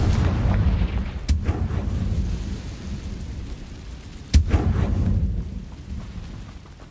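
Fiery Confringo spell blasts in the Hogwarts Legacy video game: two sharp, loud booming impacts about three seconds apart, each rumbling over a dense, stormy low roar of background game noise.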